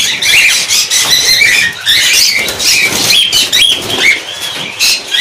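Caged cockatiels and budgerigars chirping and squawking continuously, with wings fluttering in a busy, dense chorus, close and loud, with no voices heard.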